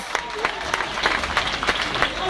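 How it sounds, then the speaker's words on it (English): Stand-up comedy audience applause greeting a comedian, a steady dense wash of many hands clapping throughout with a few sharper individual claps, near and fairly loud, with faint voices mixed in. "Give it up for Aziz."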